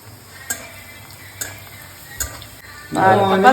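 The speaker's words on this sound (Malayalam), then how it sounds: "ഇതങ്ങോട് വറുത്തിട്ടാ മതി" Food frying and being stirred in a home kitchen pan, with soft scraping strokes at intervals before a loud burst of sizzling as more goes into the hot oil near the end.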